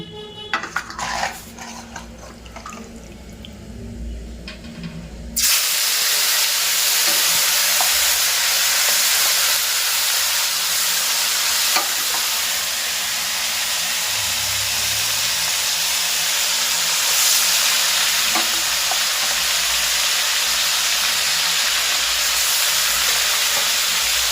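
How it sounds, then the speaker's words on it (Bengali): Mutton pieces hit hot oil on a mini gas stove and break into a loud, steady sizzle after a few quieter seconds at the start. The hiss carries on unbroken to the end. "আজকে তো তেল অলরেডি গরম হয়ে গেছে এবার মটনগুলোকে দিয়ে দিচ্ছি"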